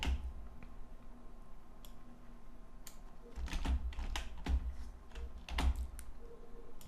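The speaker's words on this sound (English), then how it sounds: "type in 3 to 5 comma separated keywords that are relevant to your actual page" Keywords are tapped out on a computer keyboard while building a web page in Dreamweaver, with sparse key clicks at first, then a denser run of quick taps and a few sharper strokes, close and clear with no talking.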